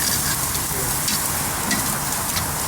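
Pork chops searing on a Big Green Egg ceramic grill over open flame, a steady close hiss and crackle of sizzling fat running continuously without talk.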